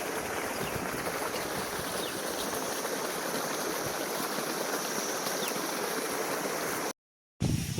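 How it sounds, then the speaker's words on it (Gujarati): Irrigation water flows into a cotton field with a steady, moderately quiet rushing and gurgling that runs continuously until a short dropout near the end. "જો કપાસમાં પાણી વાળી દીધું છે."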